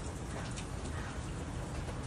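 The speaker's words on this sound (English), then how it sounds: "it's raining" Steady, dense rain in Los Angeles hissing continuously, fairly loud and close, with no voices.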